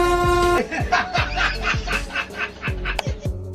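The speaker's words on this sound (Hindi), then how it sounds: "पायलट भी इनके मजे लेने के लिए दूर से हॉर्न नहीं मारता, बल्कि कपल के पास जाकर अचानक से हॉर्न मारता है" A train horn blasts suddenly right beside a couple, a loud sustained tone at the start and again near the end, with laughter and excited voices in between.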